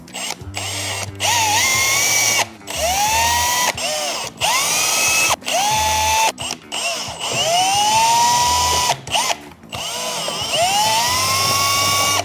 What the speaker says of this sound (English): we can drill the hole and then we can push it in